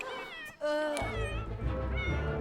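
A cat in The Sims 4 life simulation game gives a drawn-out, wavering meow, close and clear, rising over a low background hum.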